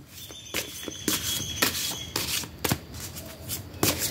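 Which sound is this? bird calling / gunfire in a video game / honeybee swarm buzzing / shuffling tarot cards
shuffling tarot cards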